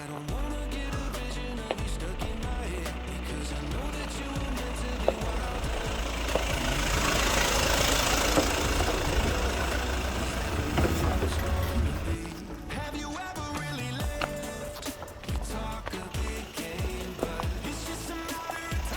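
GWM P-series ute creeping slowly downhill on hill descent control with no brake or throttle input, giving a low steady engine hum under cabin noise and intermittent clicks and rattles.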